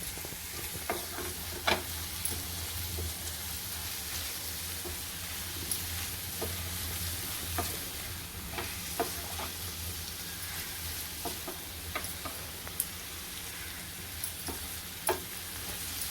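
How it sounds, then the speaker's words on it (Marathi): Onion with ginger-garlic paste sizzles steadily in a pan for prawns masala, a continuous frying hiss broken by frequent light scrapes and clicks of stirring, close and moderately loud with no talking. "त्याच्यामध्ये आलं लसूण लसूण पेस्ट घालूया चांगली परतायची"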